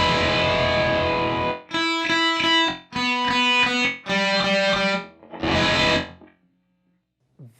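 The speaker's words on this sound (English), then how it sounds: "Let's turn the mix up. It's not bad sounding either." Alexander Pedals Sugarcube guitar effect pedal with the mix turned up, distorted chorused guitar chords strummed in several separate bursts, each ringing then cut short, loud and close with no talking.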